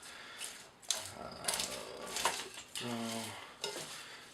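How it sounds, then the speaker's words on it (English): Popcorn being stirred into hot toffee in a pot, quiet scraping and clinking of a spoon against the metal pot in short irregular strokes, faint and alone. "Stir the seed, stir it all in"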